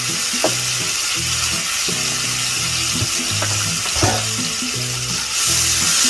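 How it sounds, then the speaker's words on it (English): Minced garlic sizzling in a hot pan while stuffed pork loin is prepared, a steady bright frying hiss with occasional light clicks, close and loud, alone with no talking. "So this pan right here, minced garlic,"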